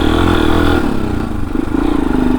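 An old motorcycle riding on a dirt road, its engine droning loud and close with a steady rumble and a slight rise in pitch toward the end.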